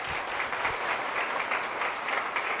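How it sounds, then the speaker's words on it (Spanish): Sustained audience applause at a church book presentation, dense steady clapping from a crowd lasting throughout, fairly even in loudness with no one speaking over it. "Dele un aplauso al Señor."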